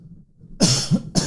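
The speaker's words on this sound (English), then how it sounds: "I always seem to cough when I'm doing these things" A person coughs close to the microphone, two harsh bursts in quick succession followed by a third, with no talking around them.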